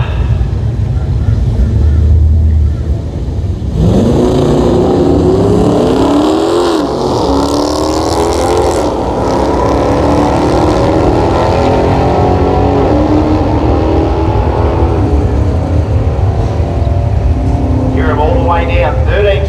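Late-model Chrysler 300 SRT and an old-school Plymouth Cuda drag racing at a Mopar event, engines roaring loudly and steadily with rising revs, along with passing noise and crowd sound throughout.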